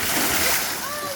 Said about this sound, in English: So there's a bucket up there that's about to tip.